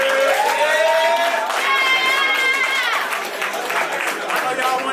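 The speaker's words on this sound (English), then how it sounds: "Both y'all clap it up for them." A crowd at an all-girls boxing event in Charlotte, North Carolina cheers and applauds after a bout, loud and continuous, with shouting voices and whoops layered over the clapping throughout.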